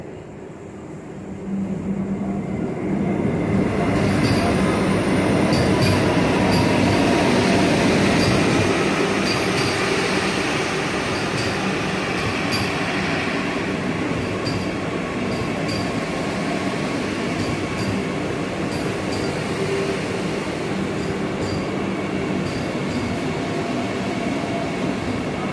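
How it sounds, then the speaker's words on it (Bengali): A Vande Bharat Express train pulls into a station platform, a loud, continuous rolling rumble and clatter of wheels with faint high squeals and ticks above, sustained close by without voices. "এখন আসছে ভারতের luxurious train Vande Bharat express."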